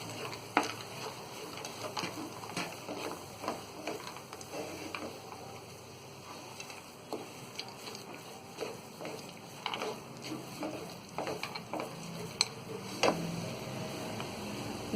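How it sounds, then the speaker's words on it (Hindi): Almonds, cashews and raisins being stirred into a thick chocolate burfi mixture in a pan, with steady scraping strokes and scattered sharp clicks over a soft, continuous cooking hiss, close and moderately quiet. "इसी में डाल देंगे हम ये बादाम, काजू और ये किशमिश। इन्हें भी अच्छी तरह मिक्स कर लेंगे।"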